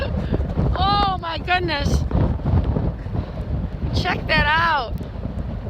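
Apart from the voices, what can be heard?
strong wind in Frankfort, Michigan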